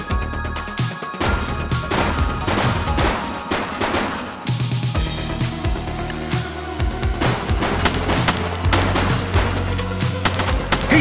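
Gunfire in The Precinct, played on Xbox Series X, with dense, loud bursts of shots that crack and rattle in rapid clusters across the whole stretch, heavy and close.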